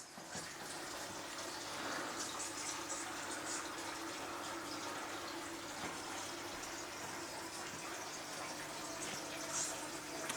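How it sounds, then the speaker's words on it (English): Steady trickle of a small dripping waterfall inside a frog terrarium, a continuous soft splashing wash with no clear pauses, moderately quiet and close. "Got a constant dripping waterfall."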